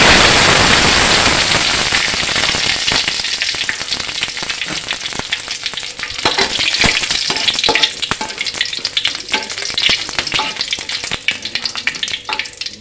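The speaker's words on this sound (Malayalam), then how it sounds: "അതിലേക്കിനി രണ്ട് വറ്റൽമുളക് ഇട്ട് കൊടുക്കാം അതിലേക്ക് കറിവേപ്പില ഇടാം" Dried red chillies and curry leaves fry in hot oil in a pan, giving a loud, steady, dense sizzle with crackling pops throughout, louder at the start and settling slightly while it continues.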